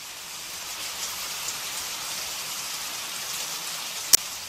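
Steady rain falls by the sea, a constant even hiss of drops with no other sounds, and one brief sharp tick near the end.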